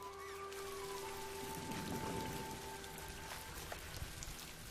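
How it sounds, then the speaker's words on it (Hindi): Steady rain pours down through a cartoon thunderstorm, a dense wash of falling drops with no pause across the whole stretch, fairly loud and even, with no voices over it. "सिल, क्या ये तूफान जल्दी थम जाएगा? नहीं, लगता है कि ये और भी तेज होने वाला है।"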